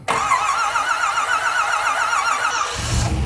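A Pontiac Firebird engine roars to life at once and keeps running at a steady, even drone for about three seconds, then drops to a low rumble.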